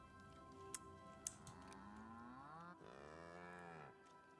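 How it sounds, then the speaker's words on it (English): Cattle lowing aboard a ship in The Outer Worlds video game: two long, drawn-out moos, one rising after the other, quiet and close, with a couple of faint ticks earlier and no talk. "are there cows on the ship?"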